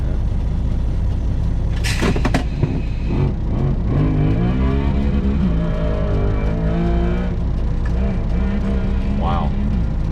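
A quad revving hard as it tears through grass, the engine rising and falling in pitch over a steady low rumble, with voices talking over it throughout.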